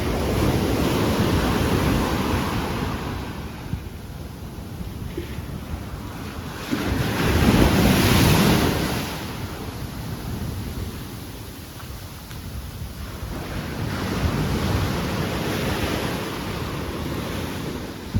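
Ocean surf on Chaweng Beach, Koh Samui, with waves washing in and out in slow swells under heavy wind buffeting the microphone, loud and continuous with no talk.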